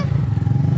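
A newly bought motorcycle idles close by, its engine giving a steady, even low throb with a slight rhythmic pulse and no voices over it.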